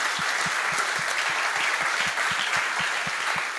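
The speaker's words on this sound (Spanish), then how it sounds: "un aplauso, ¿no?, para nuestro conferencista principal" Audience applause for the keynote speaker at a Spanish-language conference, steady dense clapping that holds loud and even throughout, with no talk over it.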